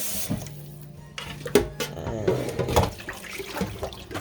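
Tap water runs and splashes over raw chicken thighs being rinsed in a kitchen sink after a lemon and vinegar cleaning, close and uneven, with handling noises and brief clunks.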